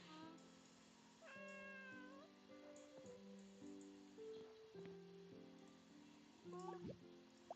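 Several cats in the Heartopia game meow in a run of overlapping tonal calls over soft water-like background sound, close and fairly quiet, with no talk.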